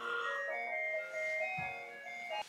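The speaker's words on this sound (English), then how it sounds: "That was my alarm clock just making sure I'm awake." A faint electronic alarm clock chimes a repeating melodic tune, steady and tinny, heard from a short distance in a quiet room.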